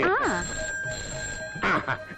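A telephone rings in a Telugu comedy movie scene, a brief electronic ring heard under and between people talking.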